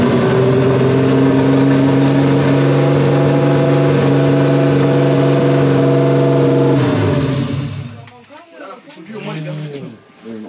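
A BMW E36 325i turbo engine runs loud and close with a steady droning rev for about seven seconds, then drops off sharply, leaving fainter uneven engine sounds and voices.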